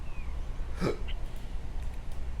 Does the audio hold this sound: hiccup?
yes